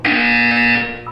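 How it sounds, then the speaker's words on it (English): A loud, flat electronic buzzer sounds once in Portal 2, holding a steady harsh tone for about a second before it cuts off. "You will hear a buzzer."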